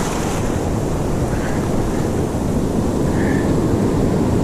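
Surf breaking on a South African beach during kob fishing, a steady continuous roar of waves with heavy wind buffeting the microphone, loud and close, no voices.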